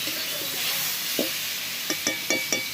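Steady sizzling of onion paste frying in a pan, with a few short scraping stirs of a spoon near the end.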